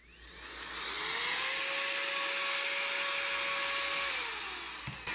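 An Opolar electric air duster blows carved foam off a taxidermy carving, a steady high-pitched whine that ramps up, holds evenly for several seconds, then spins down, fairly close with no talking.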